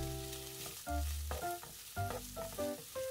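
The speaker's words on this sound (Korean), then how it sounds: "이렇게 볶다가 마늘 향이 솔솔 올라오면 다진 새우를 넣고 한 번 더 볶아주세요." Minced garlic and chopped shrimp stir-frying in oil in a hot frying pan, a steady close sizzle punctuated by clinks and scrapes of a utensil stirring against the pan, with no talking.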